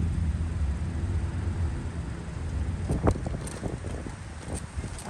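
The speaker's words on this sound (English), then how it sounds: "But there is extreme wind" Strong outdoor wind roars steadily against the microphone while someone walks, a broad low buffeting rush with a few gusty bumps and faint clatters toward the end.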